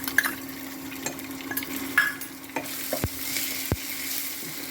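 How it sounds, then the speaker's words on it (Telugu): Ginger and green chili paste hitting hot oil in a frying pan for an eggplant and jackfruit-seed curry, a soft steady sizzle with occasional scraping stirs of a spoon, close by. "ఈ ముద్ద వేసేస్తున్నాను."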